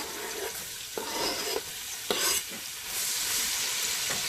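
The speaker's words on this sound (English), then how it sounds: "now I'm going to saute 1" Onion sautéing in leftover sausage and bacon grease for a low-carb Zuppa Toscana, a steady close sizzle broken by several sharp scrapes and stirs of the pan.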